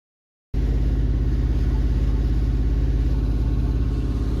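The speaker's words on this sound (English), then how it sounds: "Sam in the van parks it and heads to the city." A van engine starts abruptly and runs at a steady, loud idle with an even low throbbing pulse close by, continuing unchanged for several seconds without talk.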